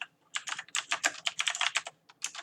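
Someone types code on a computer keyboard in quick irregular bursts of close, crisp key clicks, with brief pauses between runs and no talking.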